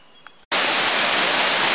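Stream water flows in Veio park. After a brief quiet moment it cuts in abruptly as a loud, steady, close rushing wash with no voices.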